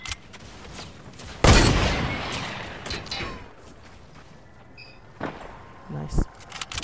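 A loud burst of gunfire erupts in a Fortnite food fight match, followed by scattered fainter shots and clatter, while players talk excitedly over the game sounds.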